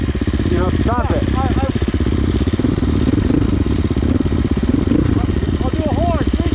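A KTM 450 EXC dirt bike fitted with an aftermarket power bundle drones loudly and continuously while being ridden off-road, its engine note wavering slightly, with voices talking over the ride.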